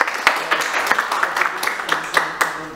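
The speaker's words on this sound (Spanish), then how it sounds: "Le compartimos un fuerte aplauso al doctor." An audience at a university conference applauds a doctor: a smaller group clapping with distinct individual claps audible, fairly close, fading slightly toward the end.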